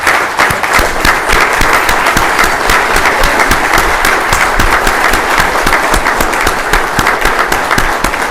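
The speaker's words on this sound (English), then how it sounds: "a standing round of applause, please" A standing audience at an Entrepreneurs Day 2017 club event gives a chief guest a round of applause: dense, loud, steady clapping from a large crowd that sustains evenly throughout, with no speech over it.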